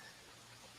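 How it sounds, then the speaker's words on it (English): Torrential downpour falls just outside a back porch in South Jersey, a soft, dense, even hiss of rain that stays steady and fairly distant for the whole brief moment, with no voices over it. "Sorry, freaks, if you can hear the rain in the background."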